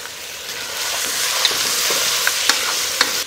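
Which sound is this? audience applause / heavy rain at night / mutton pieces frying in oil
mutton pieces frying in oil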